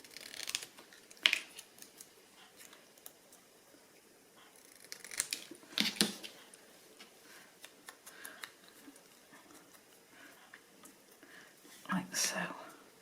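Scissors trimming small pieces for handmade dangles make a few quiet, close snips and clicks spread across the stretch, with soft speech and whispering between them.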